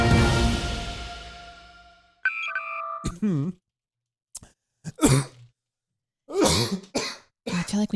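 Several sharp coughs and throat clearings come in short separate bursts, loud and close, after a fading electronic tone and a few beeps.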